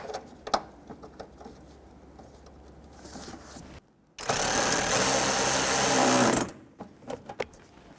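A 10mm socket on a power driver snugging a bumper bolt on a 2005-2021 Nissan Frontier, one loud continuous buzzing whir of about two seconds, with scattered clicks and handling noises before and after.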